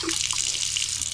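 Water streams steadily from a newly installed Delta kitchen faucet fed by a low-pressure well supply, a continuous hiss-like rush that stays even and close throughout the short clip.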